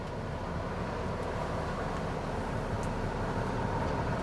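A UNICAT expedition vehicle drives off-road with its rear differential locks engaged, giving a steady, low engine and drivetrain drone with no clear breaks.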